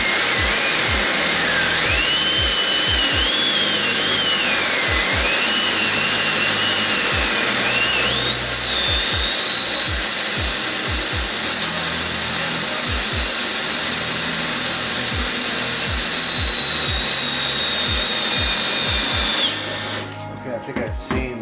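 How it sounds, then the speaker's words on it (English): A Dyson hair dryer blows continuously with a loud, airy rush and a high whine that wavers and then settles, interrupted by soft low thumps, before cutting off abruptly near the end. "So let's try out this Dyson first and see how it performs."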